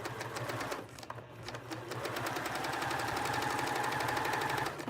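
A sewing machine stitches a scrap taggie blanket and swings around a corner, its needle hammering in a fast, steady mechanical rattle with a brief pause at the turn before it runs on evenly up close.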